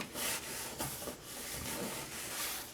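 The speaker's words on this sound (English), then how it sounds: "just going to give that a little bit of rub" Paper layers of a glued card being rubbed down by hand, a soft, close scuffing swish repeated in several quick strokes with brief pauses between them.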